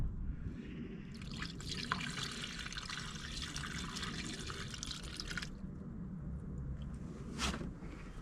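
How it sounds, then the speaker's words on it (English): Antifreeze coolant poured into the radiator of a classic Mini Cooper RSP, a faint trickling, splashing flow lasting several seconds over a low background rumble. "I'll put some more antifreeze in, top her up"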